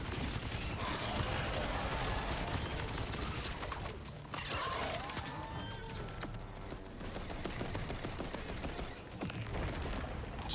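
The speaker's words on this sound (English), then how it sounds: "Hearing a whole lot of gunfire." Dense, continuous gunfire fills a Borderlands 4 firefight, with rapid overlapping shots and loud action noise throughout, nearly constant with no pauses.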